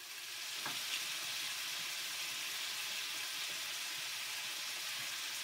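Jumbo shrimp sizzle and fry steadily in a frying pan, a continuous close crackle holding for several seconds with no one speaking.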